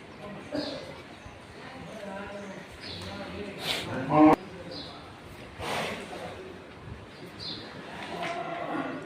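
Cows and bulls at the goshala in Kanipakam low and moo in several separate calls, some near and some farther off, with someone talking over the herd.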